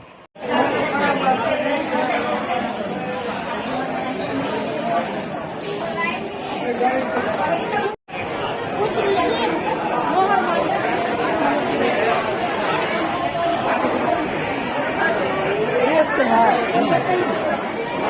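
Dense crowd of patients chattering around the registration counters, doctor's chambers and medicine counters of a busy hospital in Darbhanga, a steady loud wall of overlapping voices with a brief break midway.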